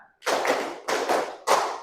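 Students in a classroom clapping game clap in three clear group bursts, each a cluster of many hands starting together and fading out, with short silences between.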